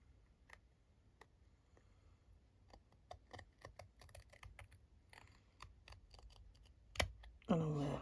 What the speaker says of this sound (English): I'm going to get my long scissors and just trim